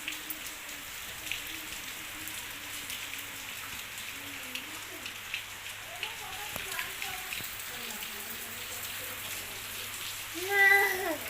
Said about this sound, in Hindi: तो आप देख सकते हैं बारिश का हाल।